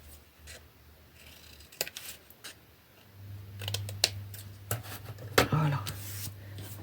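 Scissors cutting scrapbooking paper for a flower-themed album: scattered close snips and rustling paper, louder bursts in the second half over a low steady hum.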